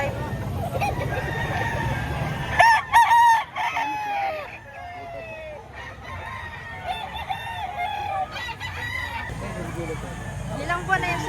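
A rooster of the Alimbuyugin breed, just over a year old, crows loudly at a busy chicken market in Lipa, Batangas, with other crowing, clucking and people talking all around.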